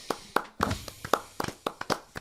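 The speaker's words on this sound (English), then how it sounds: "I think Conor deserves a round of applause on this." A small podcast audience claps briefly, a scattered handful of sharp claps spread irregularly across a couple of seconds, close and fairly quiet with no voices.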